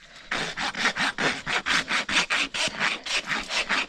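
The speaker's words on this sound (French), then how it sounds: "Je vais faire à la lime." A rasp files a barefoot horse's hoof during at-home trimming, giving about fifteen steady, rhythmic rough strokes close by with no talking.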